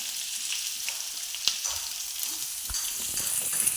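Chopped onion frying in a home kitchen pan, a steady close hiss of sizzling oil with a few soft clicks of stirring throughout, no voices.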